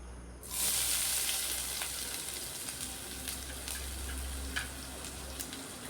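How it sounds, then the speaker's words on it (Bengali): Chopped onions dropped into hot oil left from frying beresta, a sudden burst of steady close sizzling that keeps crackling softly throughout, with no voices. "বেরেস্তা ভাজার ওই তেলের মধ্যে কুচিয়ে রাখা পেঁয়াজ দিয়ে দিচ্ছি"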